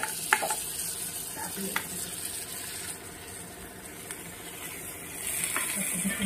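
Bitter gourd frying in a pan for a spiced vegetable dish, a steady sizzle with intermittent scraping clicks as the pieces are stirred, close and continuous with no talk.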